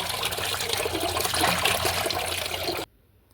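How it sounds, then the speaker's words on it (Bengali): Water runs steadily from a tap while fish is washed, a close rushing and splashing stream that stops abruptly near the end. "আবারও মাছটা ধুয়ে একটা বাটিতে দিয়ে দিলাম।"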